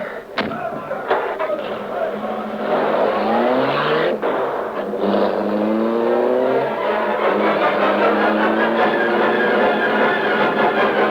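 Car sound effect in a 1946 Green Hornet radio drama as the Black Beauty drives off: the engine revs loudly and close, and the pitch climbs steadily as it accelerates, with brief voices at the start.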